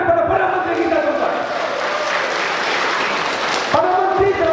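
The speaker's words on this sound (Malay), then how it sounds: "Satu tepukan kepada Perdana Menteri kita, tuan-tuan." Indoor audience clapping for the Prime Minister, a loud burst of applause lasting about three seconds that cuts off abruptly, framed by a voice over a loudspeaker before and after.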